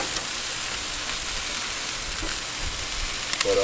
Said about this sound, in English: I can hear my sizzle is being a bit more aggressive